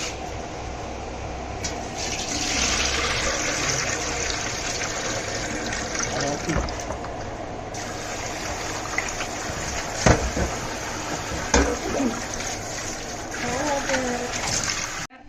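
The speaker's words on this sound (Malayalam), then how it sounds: "ഒരു 3-4 വെള്ളത്തിൽ കഴുകണം." Small Kerala fish called kozhuva are rinsed in several changes of water, with sustained splashing and sloshing, a running-water rush and occasional clatters, while a voice talks over it.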